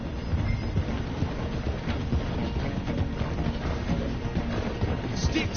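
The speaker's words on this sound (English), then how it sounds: "The train is slowing down to go through the station." A steam train in Red Dead Redemption 2 slows through a station, a steady dense rumble of rolling wheels and rail noise that holds level throughout, loud and close with no pauses.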